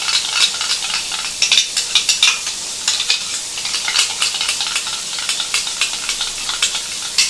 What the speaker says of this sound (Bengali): এখানে যখন মশলাটা কষছি